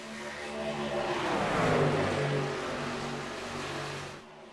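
Racing trucks, running two and three wide, drone past together as a blended engine roar that swells and fades, with shifting pitch from several motors at moderate distance.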